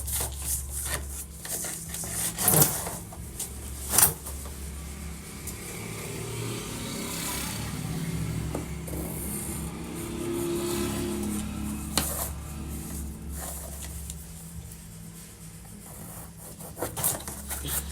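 A pencil or marker drawing a corset neckline on a paper pattern gives a steady, soft scratching rub that runs through the whole span, with a few louder taps and knocks and no talk.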